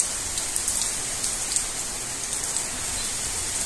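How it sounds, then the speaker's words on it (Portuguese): Steady rain falling at the start of a storm in Apodi, Rio Grande do Norte, a dense continuous hiss of drops on surfaces, close and even, with faint scattered patters and no voices. "Pelo jeito vai ser um temporal, muita chuva."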